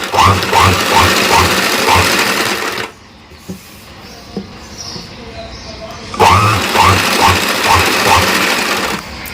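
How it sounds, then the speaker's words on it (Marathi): A sewing machine stitches a fall onto a sari, running in two loud, close bursts of rapid rhythmic clatter with a quieter pause between them. "ज्यावेळेस आपण इथं अशी शिलाई मारतो किंवा फॉल लावतो त्यावेळेस कपडा सरकतो किंवा फॉल सरकतो"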